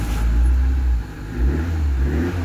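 Toyota Corolla GLi with a check-engine fault fires up and revs, a loud, close engine roar that dips briefly and climbs again over a steady low rumble.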